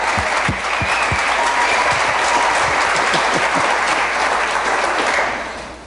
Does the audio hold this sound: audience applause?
yes